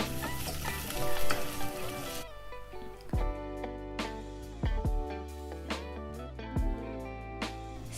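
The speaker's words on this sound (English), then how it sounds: "just add in the garlic. Let them just slightly brown." Garlic and other vegan ingredients frying in a pot: a loud hissing sizzle with stirring at first, then it drops back under music with a few soft stirring knocks.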